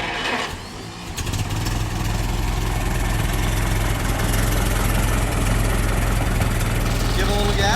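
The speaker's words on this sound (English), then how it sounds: "I wanted to do a startup and rev video" A Center Door Model T Ford engine cranks and catches, then settles into a steady, loud, low idle rumble that carries on evenly to the end.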